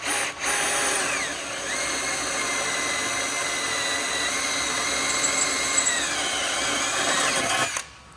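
A power drill whines steadily for about seven seconds while drilling holes in a fender panel on a Peterbilt truck, loud and close, its pitch dipping as the bit bites, then cutting off.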